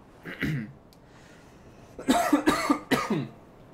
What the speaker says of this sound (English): And I do apologize again for the coughing